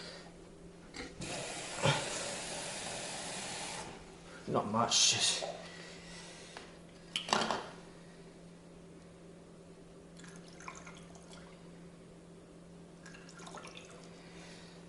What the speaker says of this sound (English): Might add a little bit more water